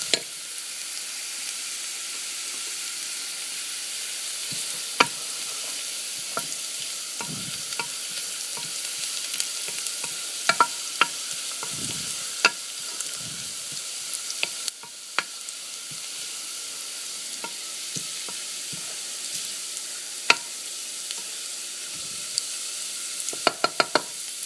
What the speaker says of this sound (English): now that the garlic's getting browned